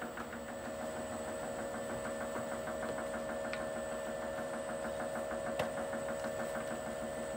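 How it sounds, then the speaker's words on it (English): A running wood lathe gives off a steady low mechanical hum with a faint, even rhythmic ticking on top while a roughing gouge shapes the spinning wood blank, fairly quiet and without talk. "for my roughing part, I like to use a roughing gouge"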